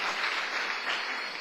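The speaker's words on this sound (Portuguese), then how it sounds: "Uma salva de palmas" A church congregation applauds in a dense, sustained wash of clapping that fills the room at steady loudness.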